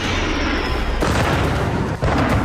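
Heavy explosions and artillery fire in wartime combat in Ukrainian cities, a dense continuous roar with a sharp new blast at about one second and another jolt near two seconds, loud and alone with no talk.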